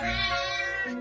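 A single long, plaintive cat meow, close and clear, a crying wail that holds its pitch and then trails off within about a second.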